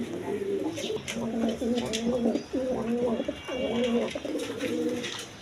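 Pigeons kept for sale coo close by in repeated rhythmic phrases, a low throaty burbling that rises and falls several times over faint background noise.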